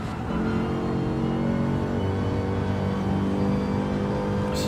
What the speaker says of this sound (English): On board with the Mercedes, chasing down the McLaren for second.